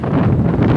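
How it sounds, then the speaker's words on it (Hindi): Strong wind gusting through Delhi, a loud, continuous low roar buffeting the microphone for the whole moment with no other sounds. "आप देख सकते हैं कि कितनी तेज़ हवा चल रही है।"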